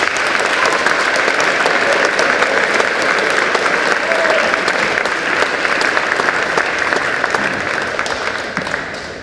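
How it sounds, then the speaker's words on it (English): Loud, sustained applause from a crowd at a high school senior night honoring loved ones, dense and even throughout before tapering slightly at the very end. "Let's give the people we love and are grateful for a round of applause."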